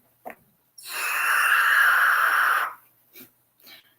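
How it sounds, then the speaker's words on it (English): A bird lets out a single harsh, hissing screech lasting about two seconds, close and loud, framed by brief soft rustles and breaths. "So sometimes this bird, when he sees a hand, he will screech at it."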